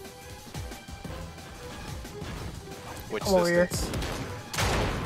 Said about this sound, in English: I heard gunshots off in the distance.